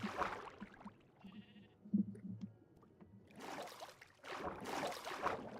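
Sheep bleat in Minecraft, a few short, strained cries spread across the stretch, with quieter game tones in between and no speech.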